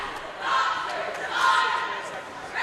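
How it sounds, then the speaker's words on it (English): Cheerleaders chanting and yelling in a school gymnasium before a girls' high school basketball game, a swelling group shout with voices rising and falling across the few seconds. "As you can hear the the cheerleaders there."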